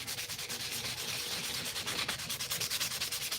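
A steel tool is scrubbed to remove rust, a close, steady run of rhythmic rasping strokes with no speech.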